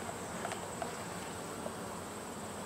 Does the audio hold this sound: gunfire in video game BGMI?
no